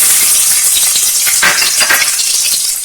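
Garlic hits a hot pan and fries for North Indian style baingan bharta, a bright, steady sizzle with a few stirring scrapes, close and alone.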